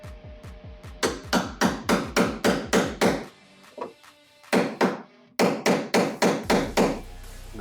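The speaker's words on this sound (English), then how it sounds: "Get my claw hammer that y'all make fun of me for." Claw hammer repeatedly striking a wedge to split apart spot-welded steel body panels on a 57-year-old classic car, loud sharp metallic blows in fast bursts of about eight, a short pause, then another quick run.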